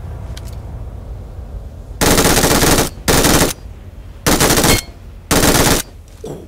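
Loud automatic gunfire in PUBG Mobile comes in four long sustained bursts with short pauses between them, close and harsh over quiet game ambience.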